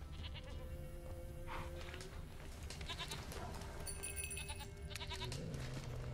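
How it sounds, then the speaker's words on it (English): A goat bleats in The Witcher 3, with several wavering, quiet cries spread over a few seconds against a low game soundscape and no talking. "I hope that's not the goat. Nope, I still hear the goat."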